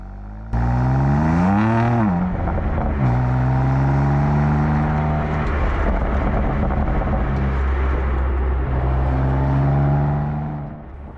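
A BMW M2 Competition inline six-cylinder engine revs hard, pitch climbing and falling through gear changes, then holding a steady high drone before easing off at the end.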